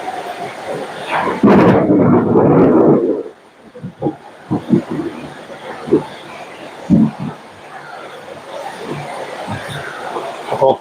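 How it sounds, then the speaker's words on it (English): A deep rumble of thunder swells loudly near the start, then gives way to scattered thumps and a low, rainy background. "I think you'll be able to hear that thunder."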